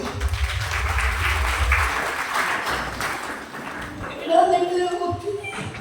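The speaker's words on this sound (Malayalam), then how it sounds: "കണ്ടു കൈയടിക്ക്." A crowd claps steadily for several seconds, then someone starts talking as the applause fades.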